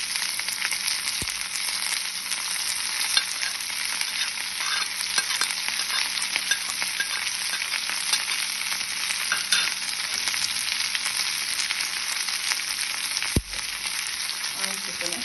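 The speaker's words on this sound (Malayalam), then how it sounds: "തേങ്ങ, പച്ചമുളക്, മഞ്ഞൾ, ഉള്ളി ഇത് ഒതുക്കിയെടുക്കും." Coconut, green chilli, turmeric and onion sauté in a pan for a kovakka (ivy gourd) thoran, giving a steady, dense sizzle with faint stirring scrapes throughout and one sharp knock near the end, with no talking.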